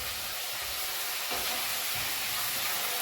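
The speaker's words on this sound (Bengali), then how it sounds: "দেখো কি সুন্দর ভাজা হচ্ছে" Crab frying in a pan: a continuous loud sizzling hiss of hot oil, steady throughout, with no voices.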